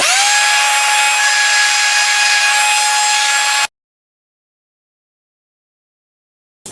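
A power sander works a cutting board made from firewood at 220 grit, a steady, loud motor whine with a bright abrasive hiss that runs alone for several seconds before cutting off abruptly into silence.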